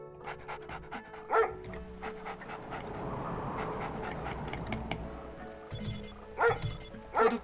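Dogs in the real-time strategy game Red Alert 2 yelp and bark in brief bursts over a busy, steady bed of game sound effects, with sharper louder yips clustering near the end.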